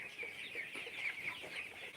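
Broiler chickens on a poultry farm cluck and chatter steadily as a close, dense flock, with a busy bright layer of calls running through the whole stretch and no voices.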